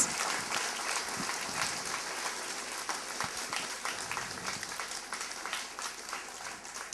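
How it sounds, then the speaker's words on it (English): A school audience at an annual day function claps for students, a continuous moderately distant wash of many hands clapping together, steady throughout with faint voices mixed in. "I think they deserve a very big applause from all of you"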